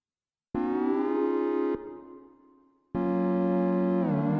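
Future bass synth chord built in LMMS with its LFO switched off: a static, buzzy sustained chord that cuts off, decays into a thin tail, then returns as another steady held chord with no movement.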